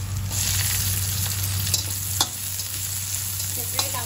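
Onion stir-frying in a pan for ginataang langka gives a continuous close sizzle, punctuated by a few light clicks and scrapes from the spatula, over a low steady hum.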